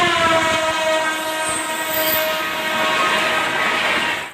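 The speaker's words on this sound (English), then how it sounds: "Instead of waiting for the train to go by" A train rumbles past up close, loud and steady, with a sustained horn tone and clattering wheels throughout before it cuts off.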